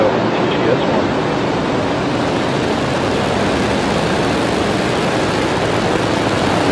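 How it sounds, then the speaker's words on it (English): A SpaceX Falcon 9 rocket ignites and lifts off carrying the MTG-S1 weather satellite, a loud, continuous broadband roar that fills the whole span with no break, while a voice talks over it. "Ignition and liftoff. Go Falcon, go MTG-S1."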